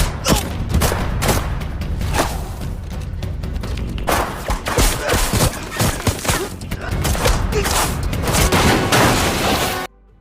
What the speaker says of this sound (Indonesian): Akhirnya baku tembak pun terjadi cukup sengit di tempat tersebut.